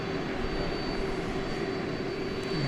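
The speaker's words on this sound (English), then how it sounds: "Flight 4964 from Los Angeles, an Airbus A320 Neo. Be here in just a second or two." An Airbus A320neo airliner arriving at Dallas Fort Worth airport gives a steady, moderately loud engine roar with a sustained whine that holds throughout, with no voices.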